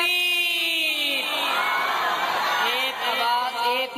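A large crowd at a naat gathering roars back in unison, answering a Takbir call with loud, sustained, overlapping voices that rise and hold before tapering slightly.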